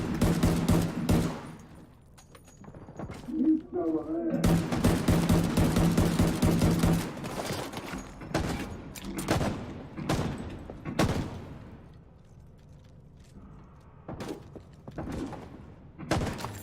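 Heavy gunfire in The Division 2 firefight: dense sustained bursts of automatic weapon fire dominate the middle, with scattered single shots and thuds around them, loud and close.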